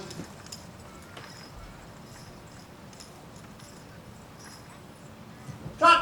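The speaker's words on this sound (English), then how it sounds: "Walk your horses." Draft horses hitched in tandem to a cart walk around a 4-H fair show ring, their hooves giving a soft, steady clip-clop at a distance under light background murmur.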